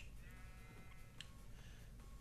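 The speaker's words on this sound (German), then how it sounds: "Ey, Schaf!" A Minecraft sheep gives a faint, brief bleat in a woodland game world, set against a constant low hum and background noise.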